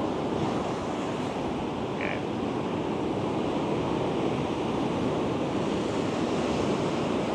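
Ocean waves wash onto an Australian beach in winter, a steady broad roar of surf with wind noise, continuous and fairly loud; a brief voice is heard once.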